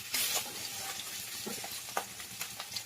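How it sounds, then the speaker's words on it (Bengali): Pabda fish fries in oil in a kadai over a medium-to-low flame, a soft steady sizzle broken by occasional sharper scrapes and pops from turning the pieces. "আরও কিছুটা বাকি ছিল, সেটাও ভাজা করে নিচ্ছি"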